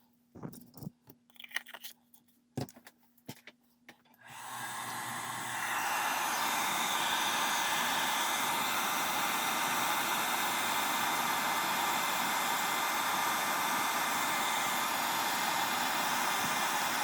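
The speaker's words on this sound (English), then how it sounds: "I'm going to hit it with the hairdryer" A hair dryer blows on a freshly painted rust and corrosion texture on an HO scale model car. A few faint clicks come first, then the dryer starts and runs with a loud, steady roar to the end.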